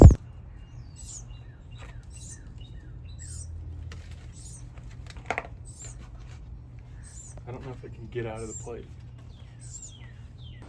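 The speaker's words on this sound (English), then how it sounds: "I all of a sudden heard this like screaming little baby bird next to me" A baby bird fallen from its nest gives a series of thin, high, piercing cries at regular intervals, close by over a low steady hum, while a person talks briefly.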